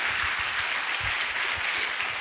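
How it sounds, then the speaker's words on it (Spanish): A Spanish-speaking church congregation claps together during a Sunday service, a lively, fairly close burst of applause lasting a couple of seconds with no speech over it. "Y le pueden dar un aplauso al Señor."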